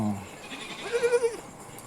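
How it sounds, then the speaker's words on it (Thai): Boer crossbreed goats and their young bleat on a farm, one clear wavering bleat of a few pulses rising midway, with a low voice or murmur at the start. "มีทั้งแพะเล็กครับอ่า แพะป้อนนมก็ออกมาด้วยครับ"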